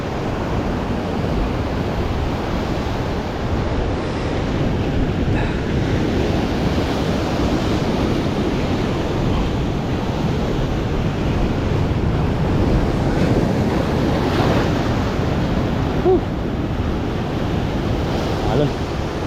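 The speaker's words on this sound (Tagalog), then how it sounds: "Alon." Ocean waves surge and wash continuously around a fishing spot at sea, a loud, broad rushing mixed with buffeting wind noise on the microphone, steady throughout with no clear speech.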